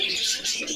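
Pigeons at a pigeon sale coo and call in a brief, fairly loud burst, with steady bird noise throughout and no talk.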